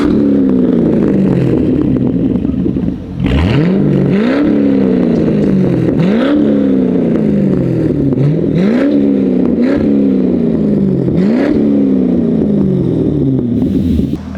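A 5.7-litre V8 car engine revs hard and repeatedly at close range, each sweep rising then dropping back to a loud, rumbling idle, about six blips in a steady rhythm with no talking.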